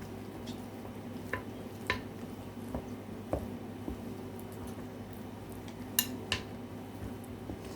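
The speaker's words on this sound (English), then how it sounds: "you just keep mixing with the stick part of your wooden spoon" A wooden spoon stirring no-knead cinnamon raisin bread dough in a bowl, soft scraping and occasional light knocks against the bowl, fairly quiet with a low background hum.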